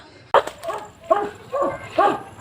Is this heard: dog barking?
yes